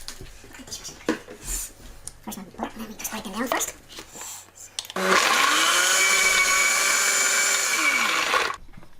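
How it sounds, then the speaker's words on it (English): Biscuits crushed in a blender for a banoffee cheesecake base: talk and handling noises first, then a loud steady whirring grind for several seconds that stops abruptly. "So we start off with our biscuits."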